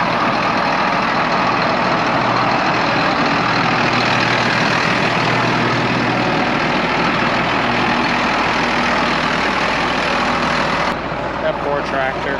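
A heavy tractor engine rumbles steadily and loudly during a muddy wheat harvest, a broad low drone with some faint voices underneath, cutting off near the end.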